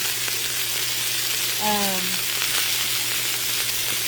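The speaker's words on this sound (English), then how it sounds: "Have you never fried potatoes and cabbage together?" Potatoes and cabbage fry together in a pan with a steady, close sizzle, and a brief tonal squeak rises over it partway through.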